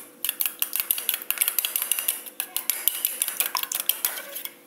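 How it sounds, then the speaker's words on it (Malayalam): A fork beats eggs with salt in a bowl, fast rhythmic clinking taps against the bowl's sides, close and fairly loud, repeating steadily. "ഇനി അതിലേക്ക് കുറച്ച് ഉപ്പ് കൂടെ ചേർത്ത് ഇത് നന്നായിട്ട് അടിച്ചെടുക്കണം"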